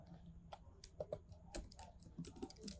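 Fast, irregular clatter of keys on a computer keyboard during coding, close and fairly quiet, with uneven bursts of taps and no talking.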